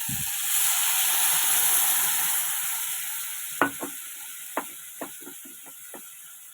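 Okra frying in a pan with a ground mustard, poppy seed and chilli paste, giving a steady hiss of sizzling oil, with a handful of sharp scraping stirs toward the end.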